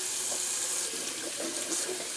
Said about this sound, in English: Just gonna rinse out my brush real quick